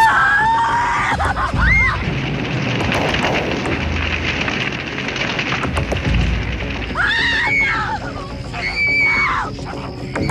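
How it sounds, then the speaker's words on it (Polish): A woman screams loudly in a 1986 action film, shrill wavering cries at the start and again near the end, with horses whinnying and hooves clattering amid a chaotic noisy scene between. "Strasznie wrzeszczy."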